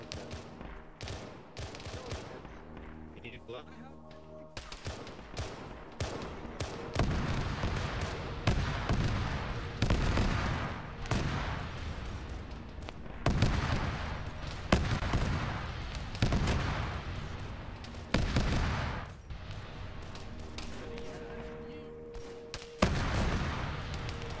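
Rapid gunfire and heavy artillery booms fill a battle in the video game Arma 3, with dense bursts of shots, repeated loud impacts and a steady roar of combat throughout.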